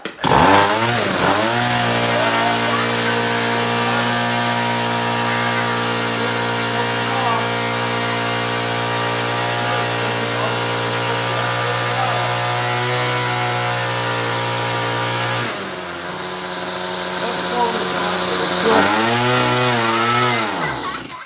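A 26cc Homelite string trimmer's two-stroke engine screams loudly and steadily at full throttle for about fifteen seconds, then its pitch sags and dips as it bogs, briefly recovering before faltering again.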